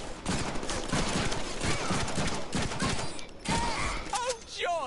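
Dense bursts of gunfire crackle continuously through a firefight in the Deadpool video game, loud and near, with brief shifting sweeps near the end.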